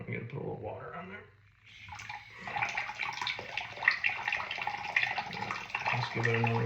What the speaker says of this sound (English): I'm gonna put a little water on there.